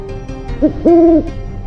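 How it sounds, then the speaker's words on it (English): An owl in the video game Wheel of the Zodiac gives two clear hoots, a short one followed by a longer, steadier call, close and distinct over a faint background hum. "First off, let me introduce you to my owl, Narkchua."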